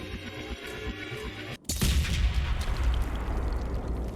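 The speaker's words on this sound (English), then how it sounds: "Much more satisfying explosion than the one on, Jacob's mission." A satisfying explosion in the video game Mass Effect 2 bursts in suddenly after a brief silence, a loud booming blast followed by a broad rumbling roar that persists to the end over game music.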